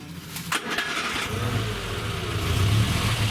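A restored Austin-Healey Sprite engine pulls away and revs steadily, a close, continuous mid-pitched drone that builds slightly in loudness over the few seconds, with no talking.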